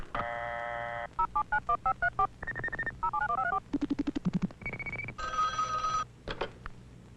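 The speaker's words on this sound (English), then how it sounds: "The time from the moment dialing is completed to the moment the called number rings" Touch-tone telephone dialing on an electronic switching system: a fast run of separate DTMF beeps in steady rhythm, then a few short ring tones, loud and clear with no talking.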